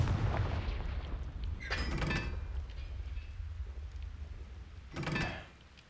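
Spell blasts from the Hogwarts Legacy video game: two loud, crackling explosive bursts about three seconds apart, one near the two-second mark and another near five seconds, over a steady rumbling game background with no talk.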